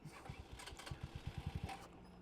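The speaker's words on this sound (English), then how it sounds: "Alright, Venom X22R. Let's get it cranked up." A 2020 Venom X22R motorcycle cranks over with a rapid run of low, rhythmic engine pulses that quicken briefly and then fade, heard faintly.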